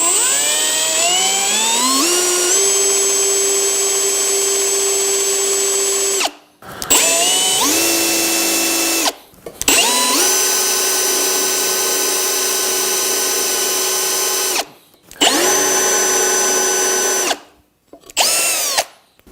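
Power drill boring a straight hole into wood, with several loud whining bursts that rev up and run steadily, separated by short pauses.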